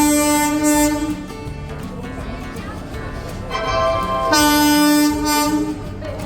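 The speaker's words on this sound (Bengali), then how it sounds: "Five, three, zero, down, Shantipur, Shialda, local," Shantipur–Sealdah local train pulling into a station, a loud rumbling passage of rail cars with sustained horn-like tones swelling at the start and again near the end, alone without talk.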